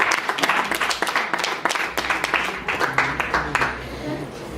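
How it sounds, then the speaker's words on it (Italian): Applause from an audience at a singing event at the Palafiori in Sanremo, dense steady clapping throughout with some voices mixed in. "Un applauso."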